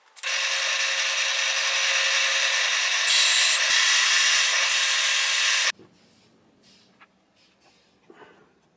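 A drill press bores a large hole through wood, a loud steady grinding whine lasting about five seconds, then cutting off, followed by quiet handling clatter and small knocks.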